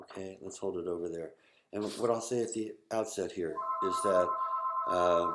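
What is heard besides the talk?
telephone ringing in the background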